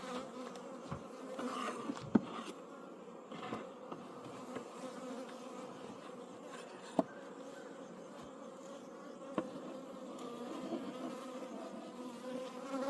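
Honeybees at a backyard hive produce a dense, continuous drone of overlapping buzzing wings, close by and steady, with a few soft knocks and bumps from nearby movement.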